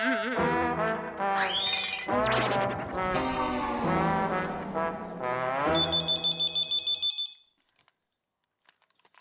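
A telephone rings during a call home, a loud melodic ringtone followed by a rapid trilling ring that cuts off abruptly, leaving near silence.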